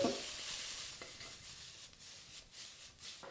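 Hot oil sizzles in a wok as Sichuan sweet and sour pork with bamboo shoots and pickles is stir-fried, with a steady hiss broken by scraping and tossing strokes at close range.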